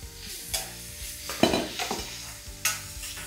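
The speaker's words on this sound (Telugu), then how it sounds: "కొంచెం ఉల్లిపాయలు బ్రౌన్ వచ్చేంత వరకు వేయించుకోవాలి." Sliced onions fry in a little oil in a pan, giving a steady hiss and sizzle broken by scraping stirs of a spatula against the metal, with no talking.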